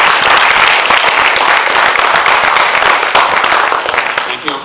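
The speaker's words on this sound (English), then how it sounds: "One more round of applause." Sustained audience applause after a university lecture, dense and loud, filling the room continuously and tapering slightly at the end.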